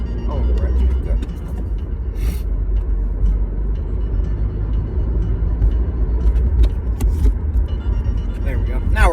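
A car speeds up through a major intersection, its engine rumble and road noise steady and close throughout, with a few faint clicks and rattles on top.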